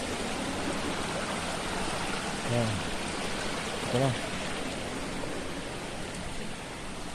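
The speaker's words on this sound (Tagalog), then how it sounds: "Ito isang ilog." Steady rushing water, like a flowing river, fills the whole stretch, with a couple of brief spoken words over it.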